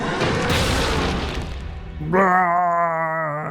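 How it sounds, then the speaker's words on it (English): An explosion in a video game booms as a rough, loud roar that fades over about two seconds, then gives way to a sustained tonal hum. "Was that an explosion?"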